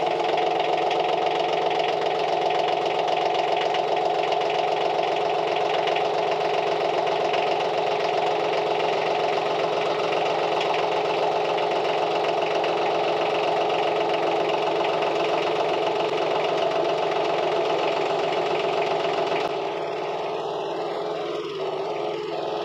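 A Branson 2515H compact tractor's diesel engine runs at a steady idle, a loud, constant close-up drone with a faint knocking texture throughout, then drops off abruptly near the end.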